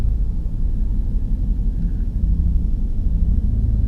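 A GMC or Chevy truck with a Stabilitrak and traction control fault and a blinking engine light runs rough while driving, giving a steady loud low rumble and drone from inside the cab with no talking.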